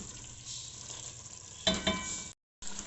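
Chopped green chillies tossed into a hot pan of potato and spinach, a steady sizzle rising into a louder burst of frying and stirring, with a brief dropout near the end.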